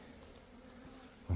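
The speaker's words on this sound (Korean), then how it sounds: "여기에 서양종 꿀벌이 계속 도봉을 들어왔습니다" Western honeybees buzz steadily around a hive at a beekeeping site, a faint, even drone near the listener, with a short louder thump or bump at the very end.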